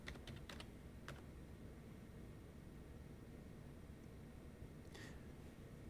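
Keys on a computer keyboard are tapped to enter a font size, a few faint isolated clicks near the start, one around the one-second mark and another brief burst near five seconds over quiet background hiss.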